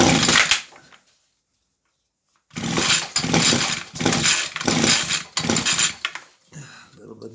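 A Ryobi weed eater, primed with carb cleaner, is started after a brief silence. It sputters and pops in a rapid run of loud, close bursts for several seconds, then dies away.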